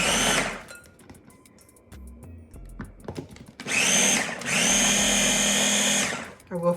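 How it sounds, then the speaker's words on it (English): A small Ninja food processor pulses butter in two loud, close motor bursts of a few seconds each, its whirring blades grinding steadily after quieter kitchen handling and clatter. "all of the butter in my little Ninja here, and we're gonna pulse it and break it down"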